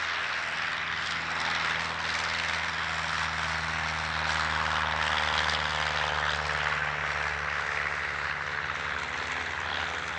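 Three Cap-10M aerobatic propeller planes of the French Navy Cartouche Doré team droning overhead at an airshow, a steady buzzing engine hum with sustained low tones and a broad hiss that varies slightly.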